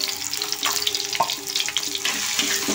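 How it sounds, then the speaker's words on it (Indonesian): Shallots, garlic and galangal sauté in hot oil, a close, steady sizzle and crackle with occasional scraping stirs and no talking. "Kita tumis sampai baunya harum sahabat."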